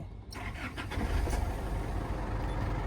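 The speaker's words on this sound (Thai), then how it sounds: "เดี๋ยวเรามาสตาร์ท เครื่องฟังเสียงเครื่องยนต์กันหน่อย" A 2013 Isuzu D-MAX 2.5 Ddi VGS pickup's diesel engine cranks and catches, then settles into a loud, rough idle that rumbles steadily close by.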